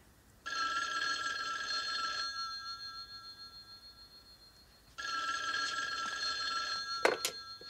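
A telephone bell rings in two long, loud trilling bursts separated by a pause, clear and close with no voices over it.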